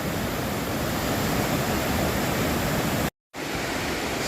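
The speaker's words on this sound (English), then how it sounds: "One last look at the Cayuga waterfall and the little cave over there." Cayuga waterfall at Ricketts Glen State Park, a steady, broad rush of falling water close by, continuous and loud with a brief cut partway through, no voices.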